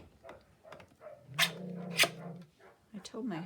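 Dogs turned loose outside give several sharp, fairly distant barks and a short whine, spaced out over a few seconds while someone talks indoors.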